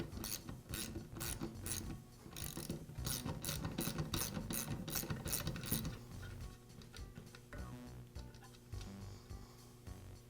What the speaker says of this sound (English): Now I'll remove the nut on the end of the armature.